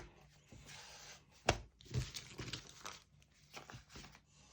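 Plastic bags crinkle and rustle close by in a series of irregular bursts, with one sharper crackle near the start.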